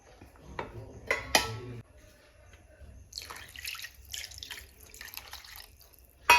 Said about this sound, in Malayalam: കുറച്ചും കൂടി നമുക്കൊന്ന് വെള്ളം ഒഴിച്ചു കൊടുക്കാം